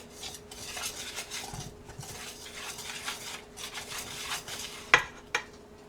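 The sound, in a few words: stirring egg white into onion ring batter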